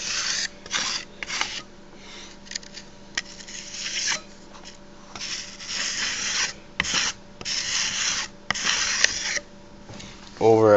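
Putty knife spreading a thin coat of filler over a plywood Minecraft sword, heard as repeated close scraping and rubbing strokes of uneven length, with a low hum underneath.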